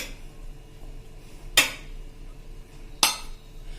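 Two sharp clinks ring out, about a second and a half apart, as a kitchen utensil knocks against a mixer jar while one cup of maida flour goes in. There is no talk, only quiet room tone in between.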